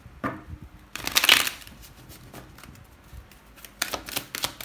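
Tarot cards are shuffled nearby in a few short, papery bursts of riffling and slapping, separated by quieter gaps.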